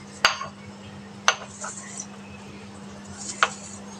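A spoon adds nigella seeds to a garlic and honey pickle, giving three sharp, separate clinks against the container over a quiet background.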